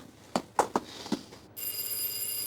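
Several short knocks, then at about one and a half seconds a steady electronic doorbell ring starts and continues, close and fairly loud.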